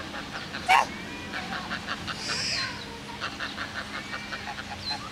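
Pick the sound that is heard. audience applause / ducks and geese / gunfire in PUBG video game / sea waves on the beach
ducks and geese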